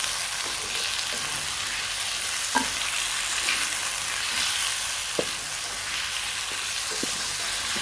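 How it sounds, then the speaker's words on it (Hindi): Potato slices fry in hot oil until light golden, a steady close sizzle with occasional faint clicks of a utensil, continuous and even with no voices. "इसका लाइट सा गोल्डन कलर आने तक हम इसको अच्छी तरह से फ्राई कर लेंगे।"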